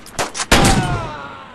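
Gunfire in a western gunfighter video game: two quicker muffled bursts, then one loud, sharp shot with a long ringing tail that slowly fades.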